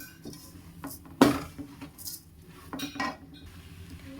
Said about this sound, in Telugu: ఇట్లా కలబెడుతుంటే చూడండి బెల్లంలో మంచిగా మిక్స్ అయిపోయి మనకి ఇట్లా ముద్దకు వస్తుందండి